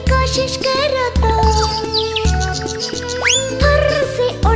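Cheerful chirping bird-like whistles and rising slides sit over a loud, bouncy instrumental backing of a Hindi children's nursery rhyme, the chirps scattered briefly through the steady beat.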